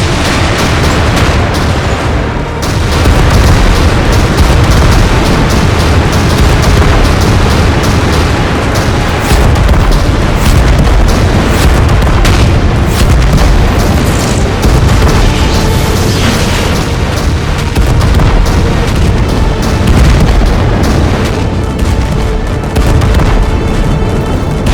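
Cartoon tank cannon fire and explosions pound without pause, a dense wall of loud booms and blasts rumbling continuously throughout.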